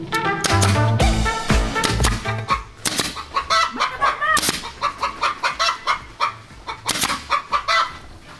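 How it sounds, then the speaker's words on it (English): Chickens cluck loudly and excitedly close by, a rapid, agitated burst of squawks and clucks that keeps going without pause. "I don't think the chickens like what you're doing. They are freaking out."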